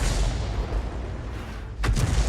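A 105 leFH18B2 artillery gun fires in a tank battle video game, with a low rumbling boom over a sustained engine-like drone and a sharp second blast near the end, loud and close.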